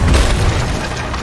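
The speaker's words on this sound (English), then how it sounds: "Oh, I got one with a cannon." A cannon fires in a pirate ship video game, giving a single loud, deep boom that rumbles and decays over about a second.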